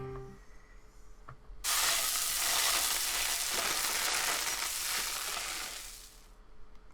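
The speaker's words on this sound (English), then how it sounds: "I'd give my frying pan a shake." Loud, steady sizzle of a frying pan while cooking in a video game, starting abruptly after a quiet moment and holding for several seconds before cutting off.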